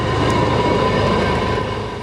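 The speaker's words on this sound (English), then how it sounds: "it's an old steam locomotive, so it still needs a lot of work, bearings and things like that, but it's good enough to go" An old steam locomotive, McCloud #18, runs on rails on its first revenue run to Carson City, a loud, close, steady rumble and clatter of wheels and railcars with no voices.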